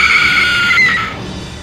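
A woman in a horror story lets out a loud, shrill, sustained scream that wavers for over a second and then fades, heard alone.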